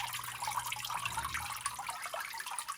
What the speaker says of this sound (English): the pump here turns on automatically when there's heat in the wood stove, and it circulates water through here